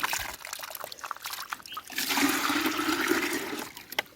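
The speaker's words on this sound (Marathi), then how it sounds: "आता हे असं गळत असतो थोडा थोडा, त्यामुळे अशी बादली भरते." Water leaking slowly from a pipe and trickling into a bucket at a coconut orchard in Konkan, a soft continuous splash and pour that swells louder midway, with no talk.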